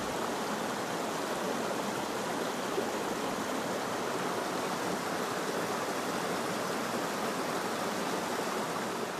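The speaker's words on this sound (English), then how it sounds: "This is the West Twin River, and it combines with the East Twin River" The West Twin River at Cherney Maribel Caves County Park rushes along in a steady, even hiss of flowing water, unchanging throughout, with no voices.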